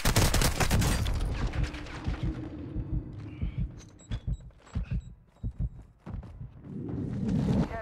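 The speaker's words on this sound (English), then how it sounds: "I don't know who's shooting me." Gunfire in a video game aimed at the player: bursts of shots, loud at first, then sparser separate cracks mid-clip, with a dense burst returning at the end.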